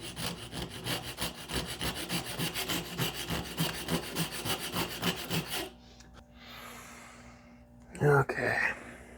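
A wooden axe handle is hand-sawn to trim it narrower, steady back-and-forth strokes rasping loud and close for several seconds before stopping, followed by quieter handling and a brief breath or sigh.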